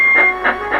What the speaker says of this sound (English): Toby decided to try and blow his whistle to them